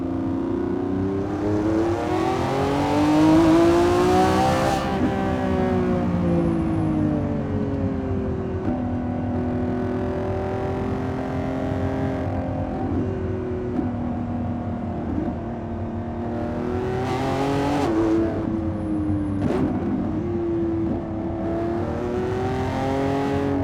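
A 2025 Lamborghini Revuelto revs hard toward 9,500 RPM on a canyon drive, its loud engine rising and falling through several long pulls, with shifts and swells of noise and no talking.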